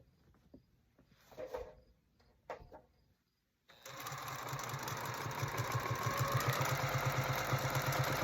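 A domestic Singer sewing machine stitches a quilt in a steady, rapid mechanical run. It comes in after a few seconds of soft handling noises and a short silence, and it is close and fairly loud throughout.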